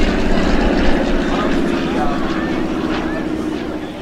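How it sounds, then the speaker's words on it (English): WWII warbird propeller aircraft, an SNJ Texan with Supermarine Spitfires and Hawker Hurricanes, at the 2012 Jones Beach airshow, give a loud continuous engine drone that stays steady throughout, with a faint voice underneath. "in front of us at Show Center, is the SNJ, or the Texan, alongside the Supermarine Spitfires and the Hawker Hurricanes"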